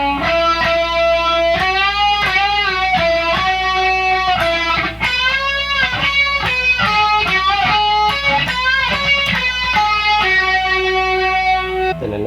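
Electric guitar solo section from a song, played as a lesson run-through: a continuous run of bent and sustained lead notes with steady picking, up close and unaccompanied by talk.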